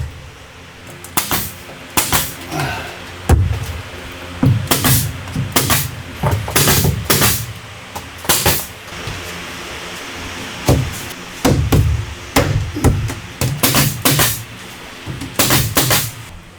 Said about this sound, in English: To secure the planks, I use a combination of wood glue and 4mm staples.